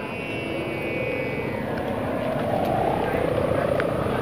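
Kite fitted with sendaren hummers, five different tones, flying in a field on a weak wind: a steady, loud droning hum with a faint high whine above it, running unbroken throughout.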